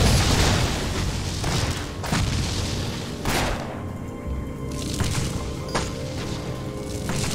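Explosive shots from the action RPG Torchlight go off as a dense run of booming blasts, with sharp impacts near 2, 3.3, 5 and 5.8 seconds over continuous rumbling game noise, loud and up close with no talking.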